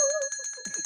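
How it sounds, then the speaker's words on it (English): A little bell rings in a quick series of bright, clear dings, close and alone with no talk over it. "I love that little bell."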